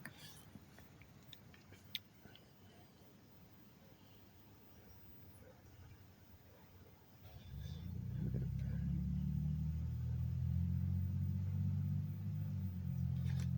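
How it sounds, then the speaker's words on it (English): A car engine starts idling partway through, a steady low rumble that swells and holds near and fairly loud after a quieter stretch of faint background noise. "I don't need this fucking car running"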